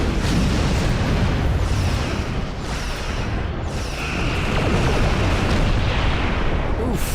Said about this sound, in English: Having 2 sets of torpedoes is fantastic. Overcharged torpedoes.